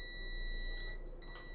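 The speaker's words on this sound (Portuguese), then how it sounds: "o multímetro vai bipar." A multimeter on continuity setting beeps as its two probes touch, a steady, faint high-pitched tone held continuously with a brief break near the end.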